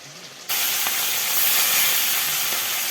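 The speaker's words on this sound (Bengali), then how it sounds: "আবার এই মাছ ভাজাতে হচ্ছে" Hilsa fish frying in hot oil in a pan, a loud steady hiss and sizzle that starts abruptly and continues close up without talk.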